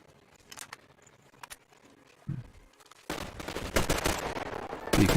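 Enemies firing guns in the video game Metro Exodus: a few sparse sharp cracks, then dense, loud bursts of rapid gunfire filling the last couple of seconds.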